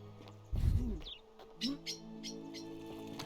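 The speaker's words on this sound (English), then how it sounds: "That was loud. That fucking bird." A bird in the video game The Forgotten City gives a loud, close call: a sharp burst followed by a few shorter chirps and tweets over a quiet, humming background.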